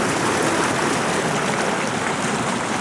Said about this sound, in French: On va longer ce petit ruisseau.